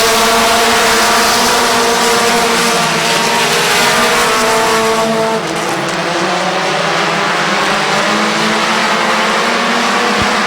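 Race cars roar through a turn at Midvale Speedway in a close three-car battle for the lead, a loud, dense engine drone with layered overlapping pitches that stays steady and eases slightly midway.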